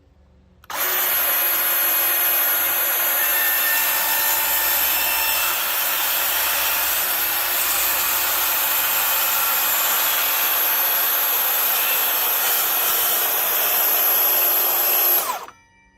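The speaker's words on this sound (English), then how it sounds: "I don't need to go very far anyway with the plunge cut." A 60V Flex cordless track saw makes a shallow taper plunge cut in baseboard, a loud steady high whine starting abruptly and holding for about fourteen seconds before stopping sharply, with no talk.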